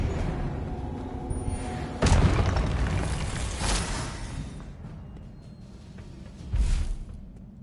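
Explosive Confringo spell blasts in the Hogwarts Legacy video game, a heavy booming burst followed by a long rumbling decay, then a lighter second blast and a third deep boom, loud and close.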